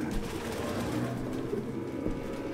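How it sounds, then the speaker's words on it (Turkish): Pigeons coo steadily in the video game Detroit: Become Human, a low soft warble running through the whole stretch over a dense ambient bed, with no talking. "Zavallı kuşlar. Evet. Merhaba kuşlar."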